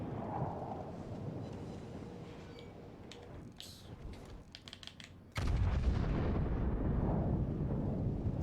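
Warship naval gunfire in World of Warships Legends, booming rumbling blasts, with a heavy, loud roaring salvo midway that continues through the end over constant battle noise.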